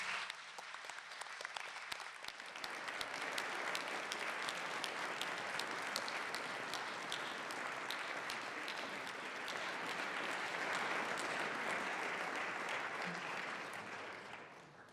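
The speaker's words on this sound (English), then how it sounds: "give them an enormous round of applause" Graduates at a Bath Spa University School of Education graduation ceremony give their supporters a long, enthusiastic round of applause, dense clapping swelling and holding steady throughout a large hall before tapering slightly at the end.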